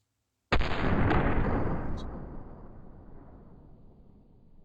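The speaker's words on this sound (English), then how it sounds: "let's fire it now" A single loud Mateba Model 6 Unica revolver shot in a video game, a sharp sudden blast followed by a long booming tail that slowly fades over several seconds.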